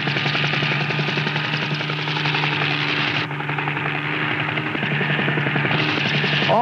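A helicopter herds bighorn sheep from the air, its rotor and engine droning loud and steady throughout with a constant hum, briefly dipping midway before resuming at full strength.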